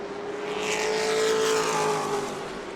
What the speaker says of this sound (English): It's a 2-truck race with 9 laps remaining.